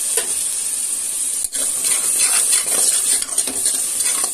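Green peas being stirred into a sizzling matar pulav mixture in a frying pan, a steady close hiss with scraping stir strokes throughout and a brief pause partway, no talk.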